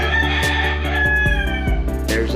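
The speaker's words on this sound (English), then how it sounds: "there's that rooster I showed you" A rooster crows near a bare, unfurnished apartment in the Philippines, a long wavering call close by, with sharp taps and clatters knocking throughout and a brief hiss near the end.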